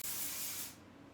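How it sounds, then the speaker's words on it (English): Texture spray hisses in one steady burst onto flipped-over hair for beach waves, close and bright, then cuts off into quiet room tone. "all I'm gonna do is take my head and flip it over and just spray from the ends"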